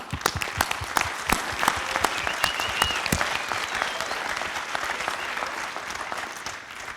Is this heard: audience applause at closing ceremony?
yes